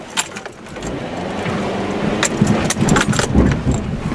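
A 2011 Hyundai Santa Fe crawls off-road, heard from inside as a low engine and road rumble that builds up, with loose rattles and jolting knocks from the rough ground, fairly close.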